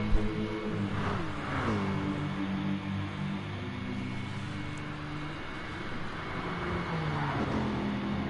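Mercedes GT race car engine in a sim racing endurance broadcast at Bathurst, a steady loud drone with rising and falling harmonic tones as engines rev and shift, several cars close together through the whole stretch.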